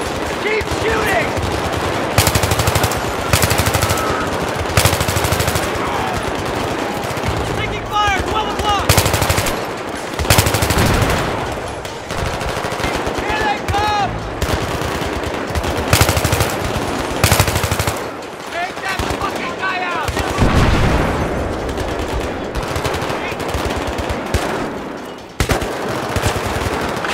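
Loud, sustained machine gun fire rattles almost continuously through a Battlefield 3 battle, with short pauses between long bursts and shouted voices over the top.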